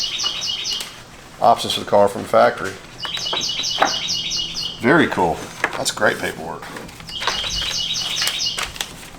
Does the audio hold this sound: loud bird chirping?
yes